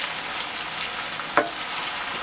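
Garlic and chili pepper fry in a pan with a close, steady sizzle and one brief stirring scrape, no talking.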